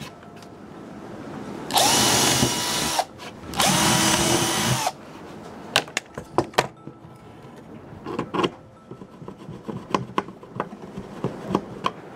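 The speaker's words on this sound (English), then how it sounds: "we'll use the screws from the printer to drill it into the wood" A power drill whirs loudly in two long bursts, driving screws into wood, followed by a series of sharp knocks and clicks of parts being handled, close by.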